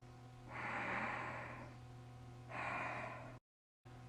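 Two slow, audible exhales during a breathing exercise, close and breathy, each lasting about a second, separated by a quiet pause and followed by a brief silence.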